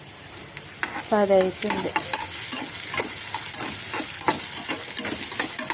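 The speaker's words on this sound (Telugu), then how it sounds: "కందనకాయలు ఫ్రై." Kandanakaya vegetables sizzle and fry in a pan while being stirred, with scraping strokes and a steady hiss close by; a short tonal sound rises briefly near the start, and a voice speaks faintly at the end.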